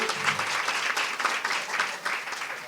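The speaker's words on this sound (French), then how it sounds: "que je voudrais que vous applaudissiez" Sustained audience applause at a ceremony, an even wash of many hands clapping from start to finish with no pause, moderately loud.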